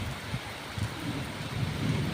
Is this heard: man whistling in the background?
no